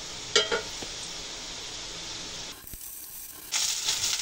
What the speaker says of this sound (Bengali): সামান্য পরিমাণ পানি দিয়ে দিব।